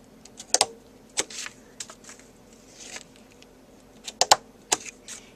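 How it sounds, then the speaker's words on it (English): Several sharp mechanical clicks and snaps of a paper corner punch on card, close up, arriving in small irregular bursts with quiet pauses between. "now I'm going to take my Southwest Punch and just do all these corners."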